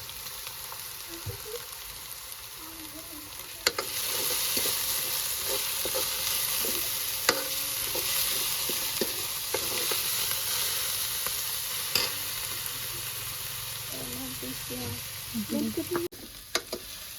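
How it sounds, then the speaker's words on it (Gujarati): Onions with salt frying in a pan for Gujarati corn curry give a steady close sizzle throughout, with light scraping and clicking from stirring scattered over it and no voices. "આપણે તો ડુંગળી થોડીક ચડવા દીધી નાખી નમક"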